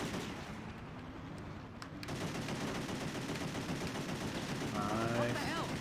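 Rapid video game gunfire from Driver '76, a dense continuous rattle of automatic shots with a steady loud level throughout, a brief thinner stretch near the start, and some higher tones rising in the last second.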